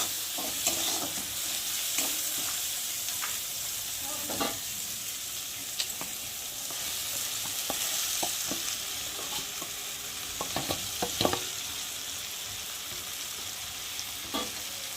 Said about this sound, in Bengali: দিয়ে ভালো করে মিশিয়ে নেব টমেটোর সাথে, পেঁয়াজের সাথে, রসুনের সাথে সব ভালো করে মিশিয়ে নেব